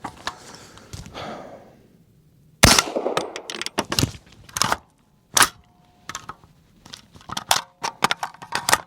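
A Mini M4 rifle in 300 Blackout fires outdoors at a range, giving sharp, loud cracks spaced irregularly after a quiet stretch, some shots standing alone and others in quick pairs.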